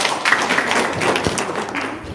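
An audience applauds in a brief, dense patter of many hands, with voices mixed in.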